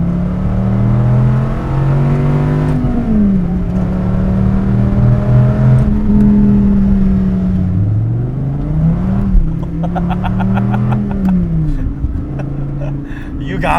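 A 2008 Dodge Viper ACR engine revs hard and climbs through several gears on a damp road, pitch rising then dropping at each shift, while a person talks and whoops over it.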